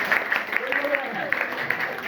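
Schoolchildren in a middle-school classroom in Kerakat, Jaunpur clap together in a quick, steady rhythm of sharp claps, with a voice audible alongside.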